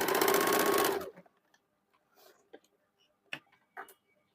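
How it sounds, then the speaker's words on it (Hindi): A sewing machine stitches the extended seam allowance on a two-piece blouse, running in one loud steady burst for about a second before stopping, followed by faint scattered clicks and handling noises. "उसको सिलाई कर लेंगे।"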